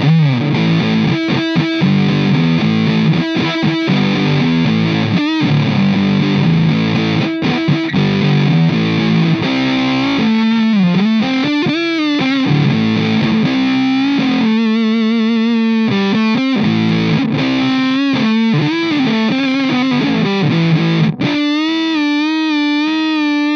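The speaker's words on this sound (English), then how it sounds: "The French Toast Octave Distortion has level for volume" Distorted electric guitar chords played through a Danelectro French Toast octave distortion pedal, loud and continuous with strummed and sustained chords, some held notes and choppy stabs, no talking.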